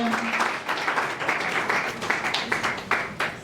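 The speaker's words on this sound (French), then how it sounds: "je vais applaudir très fort" Applause from an audience at an entrepreneurship event, many hands clapping in an uneven, lively patter with sharper individual claps standing out, sustained throughout at moderate loudness.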